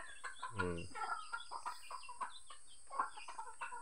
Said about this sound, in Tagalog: Kaunti pa lang aking mga manok.